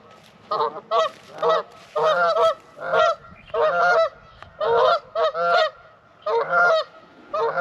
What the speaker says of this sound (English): nice pond here, some geese.